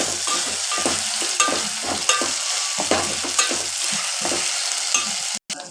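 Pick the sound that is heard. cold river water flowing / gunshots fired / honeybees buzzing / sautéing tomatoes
sautéing tomatoes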